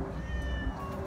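Feral cat meowing inside a drop trap, a short, fairly loud wavering cry close by over a steady background hum, with no talk.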